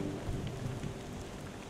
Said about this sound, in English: So we're just gonna have to focus through the rain